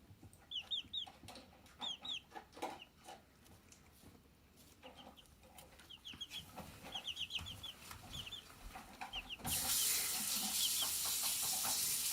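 Baby chicks peep in quick high chirping bursts indoors in a house kitchen, close but fairly soft, then a steady hiss of running water rises and covers them near the end.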